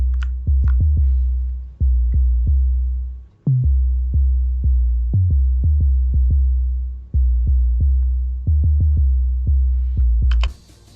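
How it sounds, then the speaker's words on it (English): A drum and bass bass line programmed in FL Studio: deep sub-bass notes pulsing in fast, uneven rhythmic jumps with short clicky attacks, loud and alone with no voices. "you want a bass sound"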